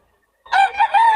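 A young rooster, a stag, lets out one short crow that breaks into a few rising and falling bursts after a moment of silence, loud and close, with no voices.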